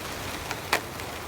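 Rain falls steadily on a campsite during a heavy storm, making a constant hiss. A couple of sharper drops or taps break through, and there is no talking.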